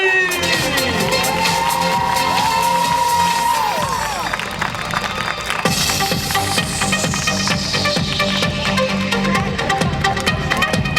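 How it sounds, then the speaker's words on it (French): Crowd cheers and applauds at a youth triathlon awards ceremony in Chalon, a loud, continuous wash of clapping and shouting with children's voices, along with music, throughout. "Allez, tonnerre d'applaudissements avec les personnalités"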